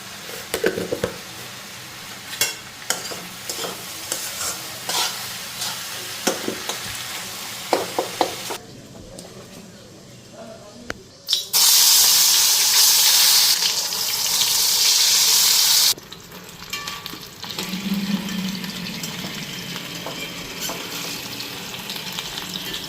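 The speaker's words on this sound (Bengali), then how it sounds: "এদিকে ছোটো কড়াইটা বসাইছি এখানে বেগুনটা ভাজুন" Eggplant fries in a small kadai (wok) with a continuous oily sizzle and occasional stirring scrapes; midway, a loud rush of running tap water briefly takes over before the frying hiss returns.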